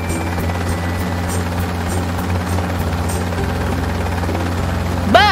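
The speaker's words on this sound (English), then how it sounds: "Look at the helicopter fly away!" A cartoon helicopter flies away, its steady rotor chop and buzz loud and continuous throughout, with a brief bright rising tone at the very end.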